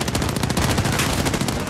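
A mounted gun fires in Modern Warfare, a steady, dense stream of loud, close, rapid shots that goes on without a break.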